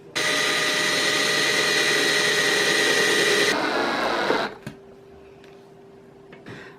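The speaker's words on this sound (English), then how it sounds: "I need to drill a pilot hole here and here" A power drill boring pilot holes into wood for shelf screws, a loud steady whine running for about four seconds before cutting off, followed by a few faint knocks and handling sounds.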